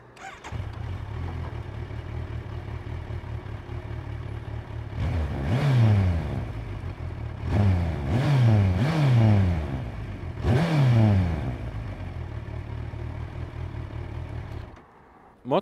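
A Kawasaki Versys 1000 SE motorcycle fitted with an Akrapovič exhaust and dB killer idles steadily up close, broken by three short throttle blips that swell and fall back, with no talk.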